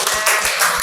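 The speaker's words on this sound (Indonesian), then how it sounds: "Tepuk tangan buat kalian semua." Students clapping for their classmates in a classroom, a quick run of close, uneven claps over less than a second.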